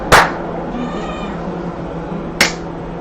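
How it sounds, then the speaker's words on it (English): A single drawn-out cat meow, close and clear, framed by two sharp claps at the start and end. "All the kitties in the house say meow, meow, meow."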